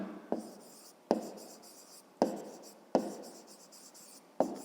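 A pen writes out a fifth-grade maths exercise by hand, with short bursts of scratching strokes separated by brief pauses, close and fairly quiet.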